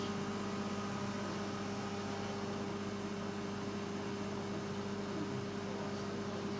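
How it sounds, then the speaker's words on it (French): A microwave oven runs on a 20-minute cycle with combination convection heat while cooking leek roulades, giving a steady, even mechanical hum with no talk. "20 minutes au micro-ondes. Le micro tourne bien"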